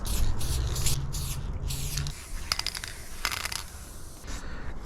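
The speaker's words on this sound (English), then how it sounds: "Just thought I'd spray paint in." Aerosol spray paint hissing in repeated bursts onto a spooky-themed mural, short close sprays separated by brief pauses with a steady low hum underneath for the first two seconds.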